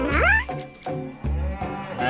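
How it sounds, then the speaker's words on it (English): A cow moos in a few loud, drawn-out calls on a farm, close and clear, with short pauses between them. "That's the sound a cow makes."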